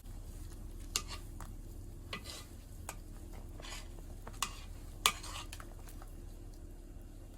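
Hot pot broth boils in a pot on the stove, with a soft continuous bubbling bed, scattered sharp pops and a few light metallic clinks nearby.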